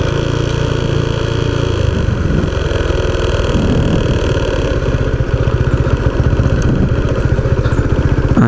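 A motorcycle engine idles loudly and close by while the bike is parked near the beach at El Rodadero, Colombia, a continuous rough putter with clattering pulses.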